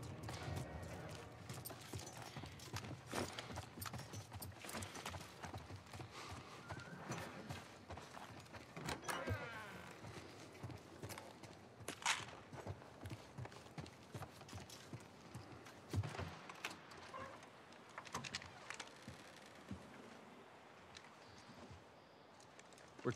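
Faint clip-clop of horse hooves on a hard surface in the video game The Last of Us Part I, irregular and quiet, with occasional clunks and a voice speaking at times.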